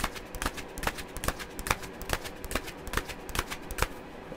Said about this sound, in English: I'm shuffling now.